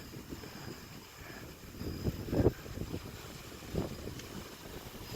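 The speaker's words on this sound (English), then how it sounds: "You can probably hear the wind." Wind gusts along a street on a windy night, a faint, low rush that swells into a couple of brief louder buffets.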